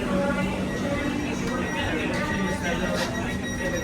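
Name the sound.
Melbourne X'trapolis 2.0 train interior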